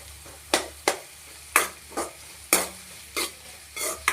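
Chopped tomatoes frying in a pan give a soft background sizzle, broken by regular sharp scraping stirs roughly every half second, close and clear with no talking.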